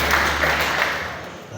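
A church congregation applauds together, a dense wash of clapping hands filling the room briefly and then tapering off, fairly loud and close.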